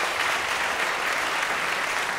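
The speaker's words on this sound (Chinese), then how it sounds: "再一次掌声，谢谢馆长" An audience applauds at the end of an astronomy lecture at an awards event, a steady wash of clapping from many hands, dense and even with no speech.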